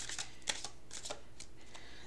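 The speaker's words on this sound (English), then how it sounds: "I am going to shuffle one of these cards for you right in the here and the now." Tarot cards being shuffled by hand, a steady run of soft, close riffling and flicking card noise with a few sharper snaps, with no talking.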